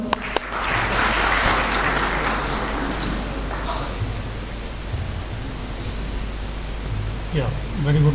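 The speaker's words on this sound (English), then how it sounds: "Give him a round of applause." An audience at the inaugural session of an international healthcare conference claps for a speaker, a broad wash of applause that swells early and then slowly fades, with low hum and a few voices near the end.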